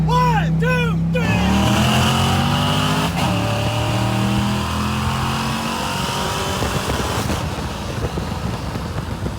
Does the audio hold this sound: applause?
no